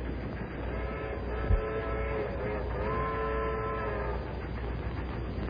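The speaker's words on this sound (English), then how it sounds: "That sounds like the train from Chicago." A train from Chicago approaches with a sustained horn chord sounding over the low rumble of rolling rail cars, steady and moderately loud throughout, with no voices.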